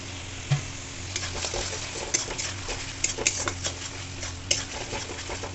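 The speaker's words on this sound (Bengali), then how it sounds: "এবার মশলাটাকে ভালো করে কষিয়ে নেবো" Spice paste with salt, turmeric and chopped tomato being sautéed in oil for a spicy prawn and potato curry, giving a steady low sizzle with scattered soft stirring scrapes and clicks throughout.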